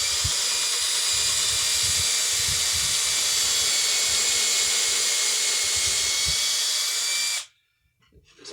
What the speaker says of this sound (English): hold on tight and drill your hole